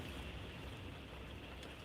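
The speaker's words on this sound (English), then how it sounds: "It's really raining and it's really windy." Heavy rain and strong wind batter a campground, a dense, continuous roar of broadband noise with wind buffeting, close and steady with no voices.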